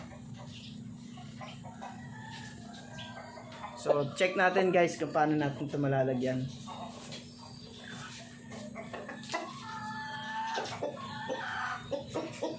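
Rhode Island Red chickens and roosters cluck and squawk nearby, a burst of loud fowl calls in the middle, while someone talks intermittently over a steady low hum.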